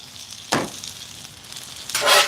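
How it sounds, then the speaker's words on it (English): Fried potatoes crackle on a Blackstone griddle, with two short bursts of sizzle, the second louder and longer, over a faint steady hiss. "we are just doing some fried potatoes and we'll add onions to it here after a while"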